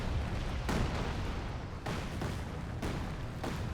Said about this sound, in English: all the artillery comes down right now